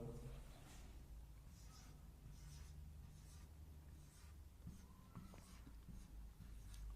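Marker squeaking and scratching on a whiteboard while binary digits are written out, a series of short faint strokes repeating over a quiet room hum.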